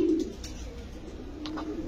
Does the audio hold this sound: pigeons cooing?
yes